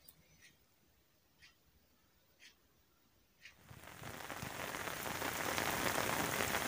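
Heavy rain in Gujar Khan during flooding of the Nala Lai stream, a few sparse drips at first, then a dense, loud hiss of downpour building up and holding steady.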